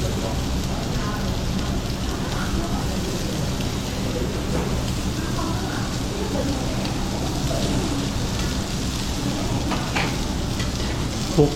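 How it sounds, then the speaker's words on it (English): Pork belly crisping on a Korean barbecue grill in Vietnam gives a dense, continuous sizzle like hard rain, with fine spattering crackles throughout and faint voices in the background. "Pork belly, it's getting crispy."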